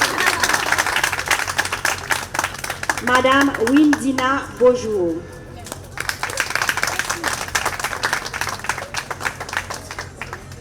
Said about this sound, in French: Les applaudissements sont gratuits.